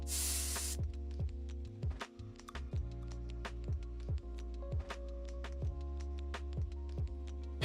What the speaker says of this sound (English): I put black in there and it's spraying clear